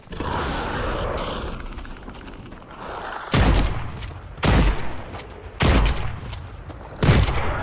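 Four heavy, evenly spaced gunshots from a weapon in The Cycle Frontier, each a loud booming blast about a second apart, following a stretch of quieter ambient game noise.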